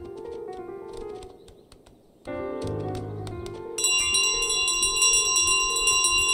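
A bell rings in Untitled Goose Game, loud bright metallic clangs layered over game music, with a brief drop before the ringing grows fuller and denser toward the end.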